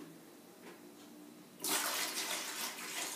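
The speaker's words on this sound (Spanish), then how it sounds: "voy a llenarlo completamente hasta llegar a la marca de 5 litros" Tap water starts pouring into a bucket being filled to the 5 litre mark, a sudden broad rushing splash after a quiet start that continues steadily, close and alone.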